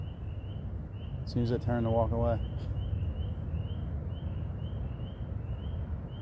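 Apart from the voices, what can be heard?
spring peeper frogs calling in a sanctuary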